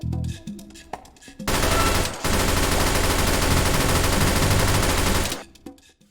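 In the VR shooter H3VR, a drum-fed Bushranger's Boon SMG lets off a few scattered shots, then a loud sustained burst of rapid automatic fire lasting several seconds before stopping.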